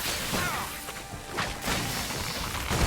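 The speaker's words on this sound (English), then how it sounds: "Oh, the explosion." A crashing, rumbling explosion from combat in the video game The Witcher 3: Blood and Wine, with broadband smashing bursts and thuds at fairly steady loudness across the whole stretch, without any speech.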